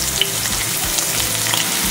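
Onion and green chilies frying in coconut oil in a kadai for a Kerala-style beef stew, a dense, close, continuous sizzle with soft crackles and a few stirring scrapes.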